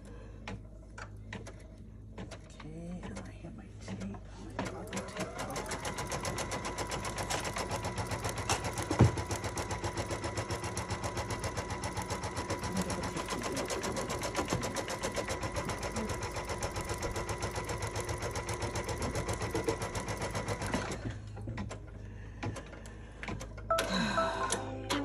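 Sewing machine stitching a line of stitching across a pieced pillow block, a fast, even mechanical whir running steadily for most of the stretch before stopping, with light clicks at start and finish.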